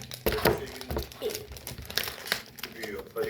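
A package is torn open, its plastic wrapper crinkling and crackling in bursts close up, with people talking over the rustling.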